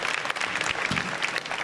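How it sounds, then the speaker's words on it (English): A conference audience in Amsterdam claps briefly, a dense but fairly soft wash of applause with no voices standing out. "Oh, yeah, get first applause"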